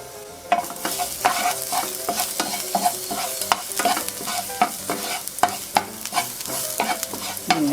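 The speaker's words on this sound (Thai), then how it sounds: "เราจะไปเริ่มผัดกันนะคะ โดยที่เราจะใช้กระทะเทฟลอนนะคะในการผัด" Eggs are stir-fried in olive oil in a Teflon pan, a steady sizzle broken by a regular run of sharp spatula scrapes and taps, close and fairly loud, with no talking.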